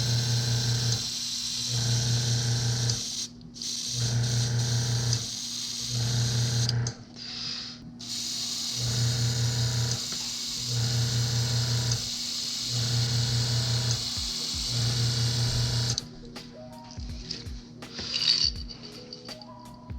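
An airbrush spraying opaque black tiger stripes onto large Believer musky lures, a steady hiss in repeated bursts with a pulsing compressor hum beneath, close and continuous, no talking.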